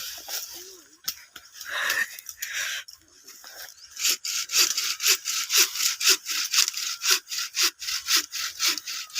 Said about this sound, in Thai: เดี๋ยวใช้เลื่อยตัดก็เสร็จแล้วนะครับ